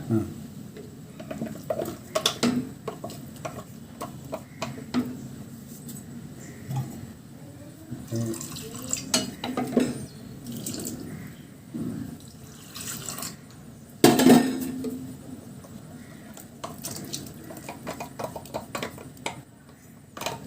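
Water is poured into a curry pot in a few splashing bursts, with scraping and stirring of utensils and clinks of cookware between pours.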